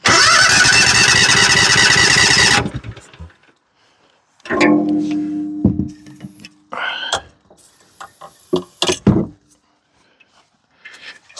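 A John Deere engine, primed with a shot of starting fluid while troubleshooting a fuel problem, roars loudly for about two and a half seconds and then dies, followed by quieter clanks, squeaks and handling noises.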